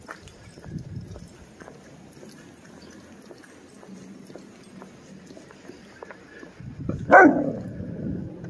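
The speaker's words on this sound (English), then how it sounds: "He's barking at the sign." A Doberman puppy barks once at a sign, a short sharp burst near the end, after a stretch of quiet outdoor shuffling and faint background noise.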